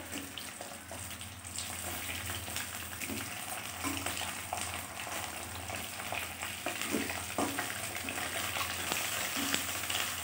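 Tilapia fish sizzles and crackles steadily in hot oil in a pan, a dense, continuous frying hiss with small pops that holds at a constant loud level throughout, with no voices.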